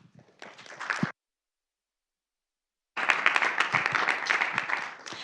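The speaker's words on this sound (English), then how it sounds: "let's give her a round of applause" Audience applause at a panel event, a short burst of clapping that cuts out, then a second stretch of steady, dense clapping.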